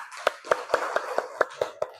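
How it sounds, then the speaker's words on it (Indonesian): Applause for a student in a classroom: eight sharp, evenly spaced claps over two seconds, fairly loud and close, with no talk. "Tepuk tangan dulu untuk Cia."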